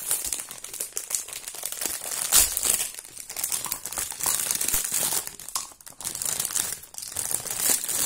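Clear plastic packaging on a small transparent plastic food container being torn open, close, continuous crinkling and crackling with a few sharper rips, no voices.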